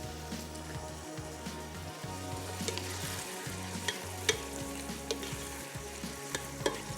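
Cumin seeds, salt and whole red chillies sizzle and crackle in hot oil in a pan, a continuous close frying hiss with scattered pops and faint stirring, no voices over it.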